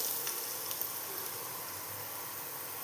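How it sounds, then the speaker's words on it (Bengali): Potato pieces frying in a pan for a drumstick-flower curry make a steady, soft sizzle. The hiss runs faint and continuous with no other sounds over it. "আলুটা আরেকটু ভেজে নেব।"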